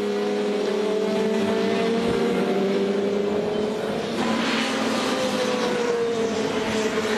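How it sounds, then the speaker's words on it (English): Touring race cars on a rolling start at Brands Hatch in wet weather, a dense steady engine drone from several cars holding a constant loud level with slowly shifting pitch, no talk. "We're now in the start procedure for race 1 in Brands Hatch."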